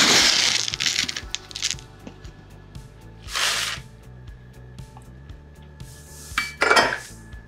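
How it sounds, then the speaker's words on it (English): Rolled oats are added to a high-speed blender with close, clattery knocks and scrapes of kitchenware and pouring. Several brighter rustling bursts come and go, with no talk. "So to our high-speed blender, we're adding 2 cups"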